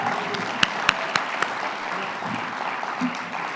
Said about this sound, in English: I think we need to give him another round of applause just for that.